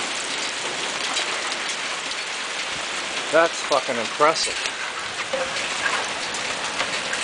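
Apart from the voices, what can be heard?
golf-ball sized hail falling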